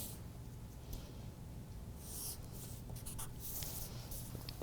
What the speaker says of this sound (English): So what I need to do is to draw in the grain line.